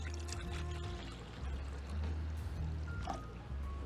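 Vinegar pours steadily into a barbecue sauce mixture with a soft, continuous trickle, heard close but quietly, with a few faint splashes and drips.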